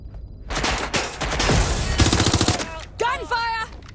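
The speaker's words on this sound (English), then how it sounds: "Gunfire!" Loud bursts of rapid gunfire and explosions in Watch Dogs: Legion on PS5, dense and close, ending with a short tonal electronic warble.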